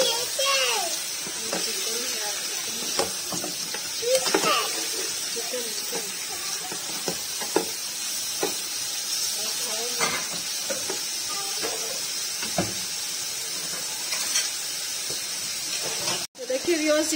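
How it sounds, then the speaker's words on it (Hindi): Pieces of chicken fry in a pan with a steady, close hiss and crackle that runs throughout, while voices talk over the sizzling. "चिकन जो है ये फ्राई हो रहा है"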